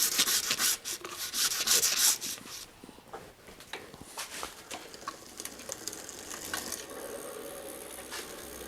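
A cloth rubs and scrubs brake pad residue off the rims of a Trek 6500 bicycle, giving close, repeated strokes that are strongest at first and then settle into softer, steady wiping.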